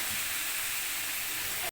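Boiled cabbage sizzling in a pan of spice masala, a steady bright hiss of frying that runs evenly and close before stopping abruptly at the end.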